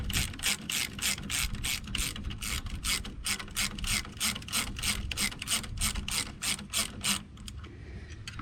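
A ratchet wrench loosening an 11 mm nut on a fuel injector, fast, even clicking that runs steadily at close range for about seven seconds, then stops.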